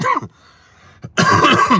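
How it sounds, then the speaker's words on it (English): A single short cough, close and sharp, followed by a quiet pause and then a louder burst of nearby talking. "I take care of this cough"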